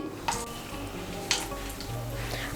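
Whole garam masala of four cardamom pods, two cloves and a piece of cinnamon sizzles steadily in hot oil, with a couple of sharp pops and a stirring scrape, close and continuous.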